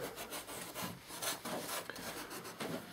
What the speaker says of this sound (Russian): он занимается, получается, шлифовочкой короны